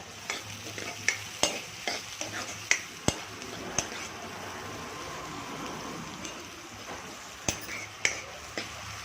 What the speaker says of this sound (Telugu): అవి వేసుకొని బ్రౌన్ కలర్ వచ్చే వరకు మనం దీన్ని